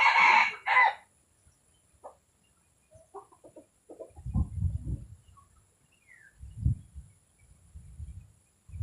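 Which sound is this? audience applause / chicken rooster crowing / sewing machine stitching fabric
chicken rooster crowing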